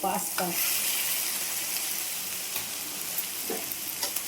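Pasta tipped into a wok of vegetables already frying in oil gives a bright, steady sizzle with a few soft stirring knocks, close and alone.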